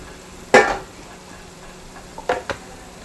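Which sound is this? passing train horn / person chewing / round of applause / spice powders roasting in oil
spice powders roasting in oil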